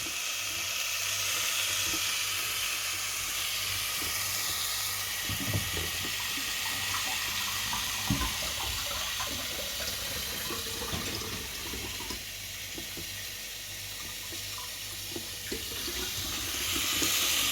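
Water pours steadily into a pot of potatoes for an egg curry, a continuous rushing splash with faint clinks and sizzling underneath, no voices.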